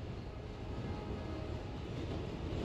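A train spawned in the Roblox game Trains vs Cars gives a steady, continuous rumbling roar that holds at an even level throughout, with no voices over it.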